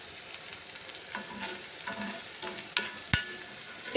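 Green chillies frying in an iron kadai, a steady close sizzle with scattered stirring scrapes and one sharp metallic clink near the end.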